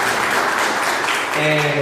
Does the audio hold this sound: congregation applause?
yes